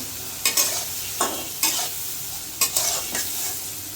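Shrimp fry in a pan under a steady close sizzle, broken by several brisk bursts of stirring and spatula scraping spaced a second or so apart, with nobody talking.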